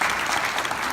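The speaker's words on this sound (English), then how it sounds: "Give him a round of applause" Dense, steady applause from an audience at a town hall meeting about the Great Redwood Trail, held at a university, loud and close, a brief unbroken burst.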